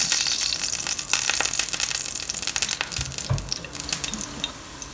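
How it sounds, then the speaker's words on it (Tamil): Onions fried in oil until golden brown for a chicken biryani, a loud, dense, continuous sizzle and crackle close by, with occasional stirring scrapes and no voices. "இப்போ நம்ம வெங்காயமும் வதங்கிடுச்சு, நல்லா கோல்டன் ப்ரௌன் ஆயிடுச்சு."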